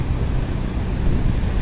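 Strong wind buffets the microphone over a constant rushing roar of waves, a dense, steady noise with no voices.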